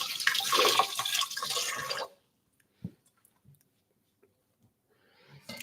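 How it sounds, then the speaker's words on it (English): Hands washed under a running kitchen tap before baking a pear cake: about two seconds of steady close splashing water, then the flow stops and a few faint drips and small knocks follow in near silence. "I'm washing my hands now, don't worry."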